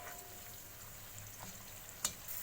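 Whole red chilies, cumin seeds and a star anise fry gently in hot oil, giving a faint, steady sizzle with a few small pops and one sharp crackle near the end.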